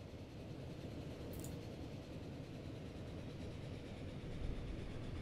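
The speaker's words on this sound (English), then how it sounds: "And here comes the cross-country train." A cross-country passenger train pulls into a station in the Transport Fever game, a steady, fairly quiet rolling rumble that swells slightly near the end, with no voices.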